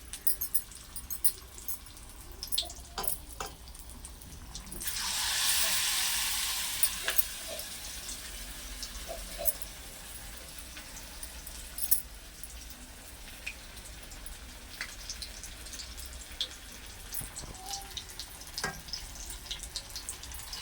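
Pieces of spine gourd (kakrol) fry in a generous amount of oil, giving a soft steady sizzle with faint crackles and one louder hissing surge near the start of the clip.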